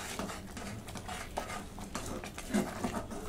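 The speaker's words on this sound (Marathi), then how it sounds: "सगळीकडे मिक्स करून घेतला." Masala rice with garam masala is stirred in a pot, a continuous close scraping and pattering of a spoon against metal with soft rhythmic swishes of the grains.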